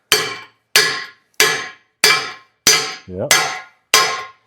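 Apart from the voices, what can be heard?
hammer striking a hot rod part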